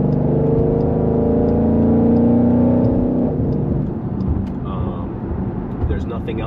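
Engine of a 2020 Jeep Grand Cherokee SRT while driving, a loud, steady, deep drone with a rising harmonic whine, then a rougher, lower rumble; continuous and close throughout, with no talk.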